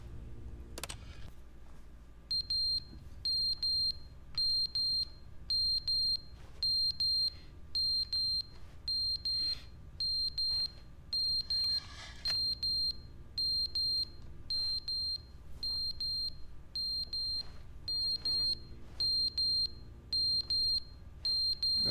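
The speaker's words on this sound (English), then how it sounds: "Little beeping noise" A steady, regular electronic alarm beeping in The Stanley Parable video game, evenly spaced high-pitched bleeps that repeat for about twenty seconds over a low hum, with no voices.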